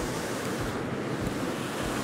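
Waterfall roaring beside rocks on a hiking trail, a dense, loud, unbroken rush of water with wind buffeting the microphone.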